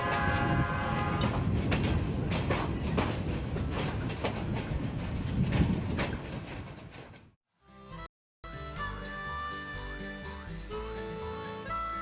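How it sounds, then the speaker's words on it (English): Long freight train loaded with John Deere combines rumbling and clattering as it departs, a steady rolling roar that later gives way to other sound. "the Jeep takes the completed train to the main line"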